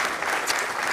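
An audience claps for Mari Carmen Encinoso on a Canarian Christmas television variety show, a dense, steady wash of many hands filling the room without a break.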